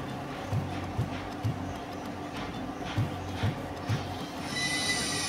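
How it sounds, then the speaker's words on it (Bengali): A local train running into Sealdah station clacks in a steady rhythm of wheel beats over rail joints under a low rumble, with a brief screech as it slows. "আমাদের ট্রেনটা শিয়ালদা 5 নম্বর প্ল্যাটফর্মে দিয়েছে।"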